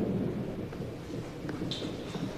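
Steady rain with low rumbling thunder rolls through a drama scene, a constant wash of noise with no voices over it.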